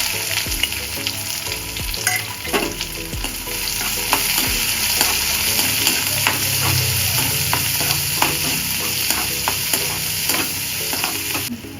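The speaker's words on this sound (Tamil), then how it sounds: "கடுகு பொரியுது பாருங்கள்" Mustard seeds, chana dal, urad dal and shallots fry in hot oil, giving a loud, continuous close sizzle with crackling pops and occasional scraping stirs of a spoon in the pan.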